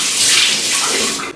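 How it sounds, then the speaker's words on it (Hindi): Tap water splashing continuously as a face is rinsed by hand after a massage in a home skincare routine, a close, steady broadband wash that cuts off abruptly at the end. "तो मसाज करने के बाद मैं अपने फेस को पानी से धो दूंगी।"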